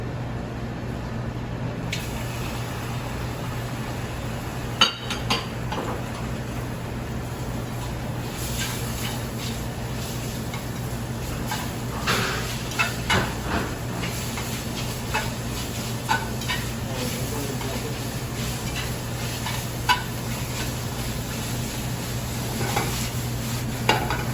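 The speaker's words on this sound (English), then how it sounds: "I'm going to add celery and tomatoes to it" Celery and tomatoes stirred in a hot pan on the stove, a soft continuous sizzle with scattered scraping and clinking of a utensil against the pan over a steady kitchen hum.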